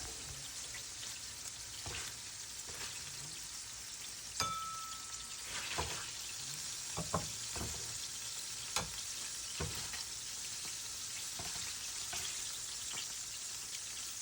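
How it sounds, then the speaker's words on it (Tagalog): Onion and ginger sautéing in a hot pan for chicken tinola, a steady close sizzle and fry hiss with a few sharp stirring clicks and scrapes spread through, no voices. "umpisa na natin maggisa. Una ko nilalagay is sibuyas, followed by ginger"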